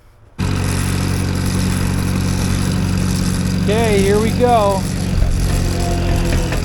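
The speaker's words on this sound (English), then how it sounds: "I got the cultivators on the tractor and we're gonna go work it in." An antique tractor engine runs steadily, loud and close, as it pulls cultivators into garden soil; a person speaks briefly over the droning motor.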